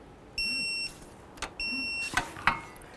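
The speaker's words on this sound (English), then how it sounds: "So let's torque these caliper bracket mounting bolts to 77 foot-pounds." A torque wrench tightens the caliper bracket bolts on a 2006–2018 Jeep Wrangler rear brake to 77 foot-pounds: two steady electronic beeps, each followed by a sharp click, close and fairly quiet in a calm workshop.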